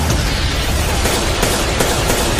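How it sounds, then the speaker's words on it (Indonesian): Pistols fire back and forth in a close-range gunfight, a steady dense barrage of sharp cracks and booms that runs loud and unbroken from start to finish. "Keduanya mengambil pistol masing-masing dan baku tembak pun terjadi."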